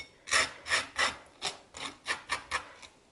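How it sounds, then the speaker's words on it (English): A knife spreads butter across toast for a bread pudding, eight or nine crisp scraping strokes in an even rhythm, close and fairly quiet. "I'm gonna continue buttering my toast"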